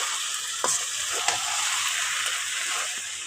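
Baghar tempering hits a pan of taro stolons cooking with shrimp and sizzles loudly and close, with a few sharp scrapes and clinks of stirring breaking through the steady frying hiss.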